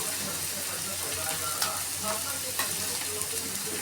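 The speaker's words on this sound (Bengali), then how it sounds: "ধনে জিরে পেস্ট একটু ভাজা হয়ে গেছে" Coriander-cumin paste fries in a pan with a steady soft hiss and occasional small crackles and stirring taps, fairly faint and close.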